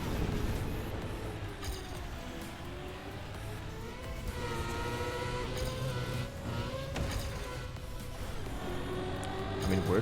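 A car engine in a racing video game revs and shifts while air braking over a jump, steady game motor drone with rising and falling pitch sweeps, under continuous talking.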